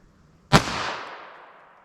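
A single sharp .22 Long Rifle pistol shot fired through a roughly 4-inch barrel during a velocity test, a loud crack followed by a decaying ringing tail, alone with no talk.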